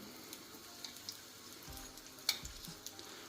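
Quiet, crackly sizzling of liver-filled cigarette pastry rolls frying in hot oil, with scattered pops and one sharper snap partway through.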